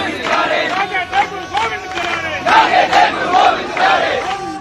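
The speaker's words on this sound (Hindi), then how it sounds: "भाई मनोज तोमर के समर्थन में दिल्ली पुलिस हेडक्वार्टर पर सभी सनातनियों की भीड़ आप देख सकते हैं।" A large crowd of supporters shouts and chants at Delhi Police headquarters, loud rhythmic voices rising in bursts of slogans over a constant babble of the mass gathering.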